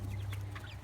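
Chickens cluck softly and continuously in a heritage-breed flock that includes Bresse and Delaware roosters, a brief, faint farmyard murmur.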